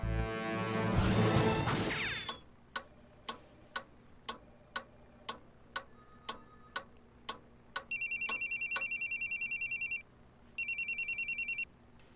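A telephone rings in two trilling electronic bursts, preceded by a series of evenly spaced sharp ticks after a brief rustle, with no talking.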